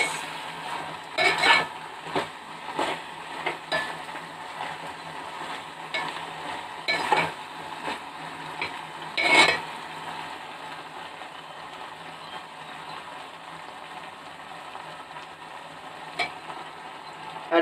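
Mutton curry being stirred in a frying pan: a soft sizzle under a series of scraping, clinking strokes of a spoon against the pan, irregular and close, with the stirring thinning out toward the end.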